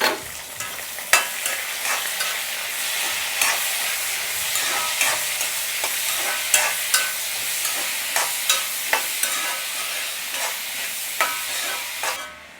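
Chopped onion and tomato sautéing in a pan for Kanyakumari-style squid gravy, giving a loud, continuous bright sizzle with regular spoon taps and stirring scrapes throughout, close up and without talk.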